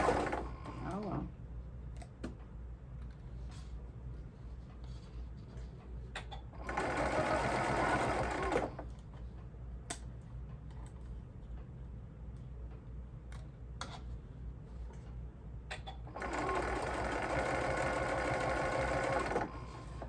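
A sewing machine stitches quilted placemats in two steady motorized runs of about two seconds and four seconds, with quieter handling clicks and taps between them.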